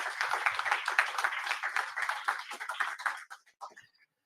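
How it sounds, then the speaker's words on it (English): Audience applause at a business school pitch day event, dense clapping from a crowd that holds steady for about three seconds, then thins into scattered claps and fades out. "So another round of applause."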